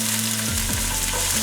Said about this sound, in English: So I'm gonna add just a bit of the onions in here.